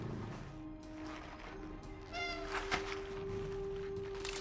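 A cat meows in the video game Cronos: The New Dawn: a short rising call midway, set against a steady low tonal hum and game ambience, with no talk.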